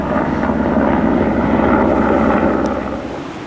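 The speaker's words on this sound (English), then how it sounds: "It was a helicopter actually, and you know what they're like, they make an awful lot of noise." A helicopter passing overhead on a coastal footpath walk from Penzance toward Praa Sands, a loud, steady broadband rotor and engine roar that fades slightly at the end, with no voices.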